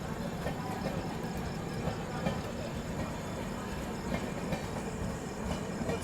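Northeast Express running into Danapur station about an hour and a half late, a steady loud rumble of wheels and carriages with faint rhythmic clatter throughout, no clear speech.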